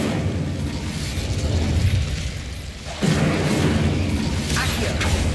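Incendio fire spell from Hogwarts Legacy, a loud whooshing blast that surges and settles, followed by a second sharper burst about midway, set against a constant roaring bed of game sound.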